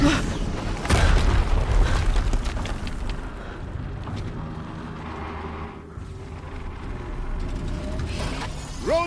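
Explosions boom through a Horizon Zero Dawn game scene, a heavy blast with shattering debris near the start, then rumbling mechanical noise and further bursts rolling on loudly.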